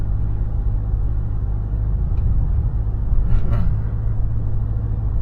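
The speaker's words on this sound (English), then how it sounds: "It's my first experience to drive my car using one hand." A car driving on a road, heard from inside the cabin, with a loud steady low engine and road rumble and a brief faint click partway through.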